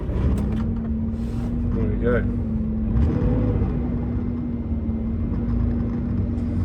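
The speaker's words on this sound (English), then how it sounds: "That is, if you can hear it over the sound of the magnificent flat 6, which we might as well start up now." A Porsche 964 flat-six engine idles with a steady, low droning hum close by inside the car, while someone speaks briefly over it.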